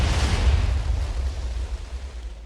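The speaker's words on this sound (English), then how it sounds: "Cluster TNT, which not only creates a very fair explosion, it also summons a bunch of TNT after it" Cluster TNT exploding in Minecraft with the Super TNT mod, a loud deep rumbling boom that decays steadily over a couple of seconds.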